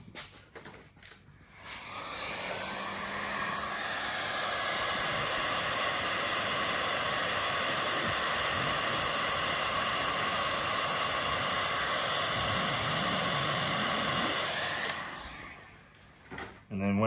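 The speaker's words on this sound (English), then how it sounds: "I'm simply going to heat shrink the 50mm piece of heat shrink onto the back of there" A heat gun blows a steady, airy roar for about twelve seconds while shrinking a 50mm piece of heat shrink tubing onto a Lightforce thermal bracket fitting, starting and stopping with a brief clunk at each end.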